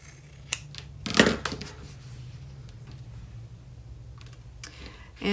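Scissors trimming the seam allowance of a sewn fabric satchel panel, a few quiet crisp snips and clicks, one louder cluster, over a low steady hum.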